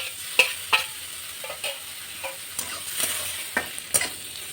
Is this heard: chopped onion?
yes